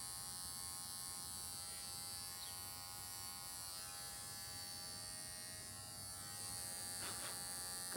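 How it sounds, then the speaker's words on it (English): Cordless electric clippers grooming a dog, giving off a faint, steady buzzing hum that runs nonstop at a low level throughout. "I like these are Merlin's clippers. I like them. The cordless."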